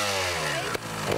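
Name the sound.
trials motorcycle engine starting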